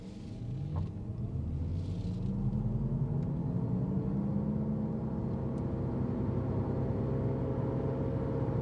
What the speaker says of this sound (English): did you hear the rotary engine going on?